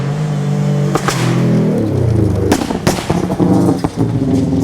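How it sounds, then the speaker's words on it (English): A Subaru rally car's anti-lag system popping and banging during a 2012 STPR rally stage, a loud engine roar punctuated by several sharp cracks and bangs as it passes close by. "Saw some super aggro anti-lag there."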